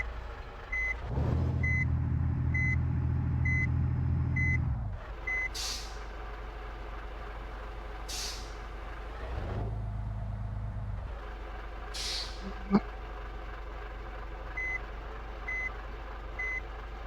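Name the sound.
truck reversing beeps in the video game Bus Simulator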